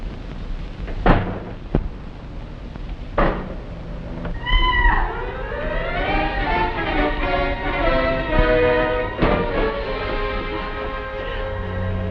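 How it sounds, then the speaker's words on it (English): A domestic cat meows in a 1948 film-noir crime thriller: a few sharp knocks come first, then a long, loud, wavering yowl rises and falls before fading, with no voices. "It was only a cat."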